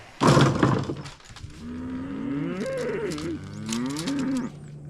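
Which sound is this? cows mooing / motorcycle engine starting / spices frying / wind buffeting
cows mooing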